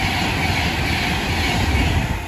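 A fast train rushes through Harrow and Wealdstone station with a loud, sustained roar and a faint rhythmic clatter of wheels, steady for the whole stretch, with no talking.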